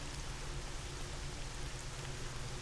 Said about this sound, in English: Really good storm sound effects, by the way.